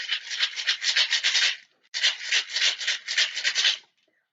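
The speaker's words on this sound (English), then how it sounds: "like maracas" Two bursts of rapid, rhythmic rattling like shaken maracas, close and fairly loud, separated by a brief pause, with no talking.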